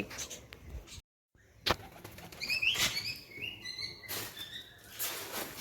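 Kaldom pigeons taking off and flying, with several sharp bursts of wing flapping close by, light chirps and outdoor background noise, and no speech.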